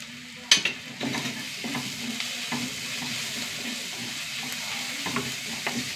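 Chopped onions with a spoonful of ginger-garlic paste fry in oil in a pan, a soft steady sizzle broken by a sharp metallic scrape near the start and several lighter stirring clinks, no talking.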